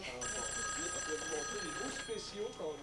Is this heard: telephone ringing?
yes